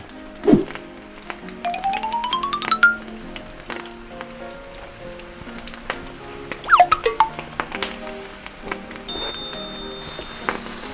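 Crying tiger beef sizzling on a charcoal-fired pork grill pan, a continuous crackling fry with sharp pops and spits, plus faint clinks of utensils, close and fairly loud.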